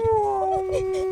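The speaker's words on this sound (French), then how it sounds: "Le chien." A dog lets out a single sustained howl, close and clear, holding a wavering tone for about a second.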